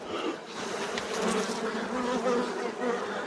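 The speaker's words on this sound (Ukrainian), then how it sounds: "бджоли ось бігають, пилок складають" Dense, close buzzing of many honeybees in a hive during a spring inspection, a continuous droning hum with shifting tones and no voices.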